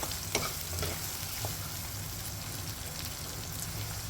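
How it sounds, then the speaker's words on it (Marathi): Chopped tomatoes sauté and sizzle in an oil pan for a peanut-flour pithla dish, a steady crackling fry with a few soft stirring clicks, close and continuous, with no one talking. "टोमॅटो आपण थोड्या वेळा परतून घेऊया"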